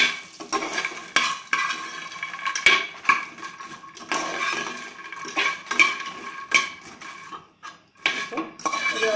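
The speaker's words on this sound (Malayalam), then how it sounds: "ഇനി നമ്മൾ ഉണ്ടാക്കി വെച്ചിരിക്കുന്ന നെയ്ക്കൂട്ട് അതിനകത്ത് ഒഴിച്ചു കൊടുക്കാം നന്നായിട്ട് ഇളക്കിയെടുക്കുക" Puffed lotus seeds being stirred with a poured-in ghee mixture in a pan, giving steady scraping and rattling with repeated clinks of a spoon against metal, close and fairly loud with no voices.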